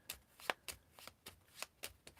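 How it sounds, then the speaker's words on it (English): A deck of cards being shuffled for a solo tabletop game, Heroes of Tenefyr, giving a quick run of crisp riffling bursts close by, with no talking. "and we'll shuffle."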